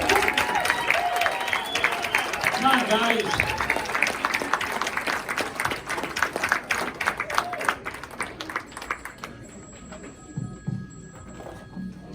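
A crowd at an Eastern Iowa music hall of fame induction ceremony applauds a band, dense clapping that gradually thins and fades, with a voice briefly calling out over it.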